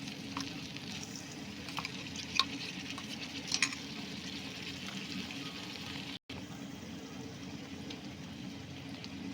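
Spice paste for katla fish curry sizzles steadily in a pan as it is sautéed, a continuous close frying hiss with a few faint clicks of stirring.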